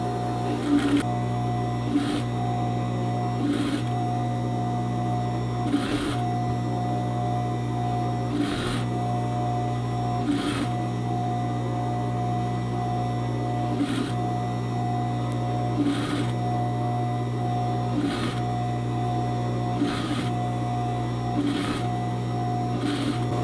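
A sewing machine stitches slowly along the edge of a delicate skirt fabric, a steady close hum punctuated by regular clicking bursts every couple of seconds, with no voices.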